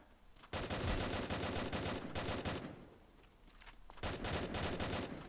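A weapon fires in a Garena video game snowball mode, with two long bursts of rapid automatic shots, loud and close, and a short quieter gap between them.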